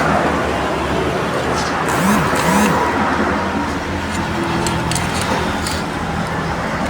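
A Yamaha Mio Sporty scooter with a neglected, unserviced CVT runs with a loud, continuous rough engine drone and a broad hissing noise, close up, with a couple of brief rising whines partway through.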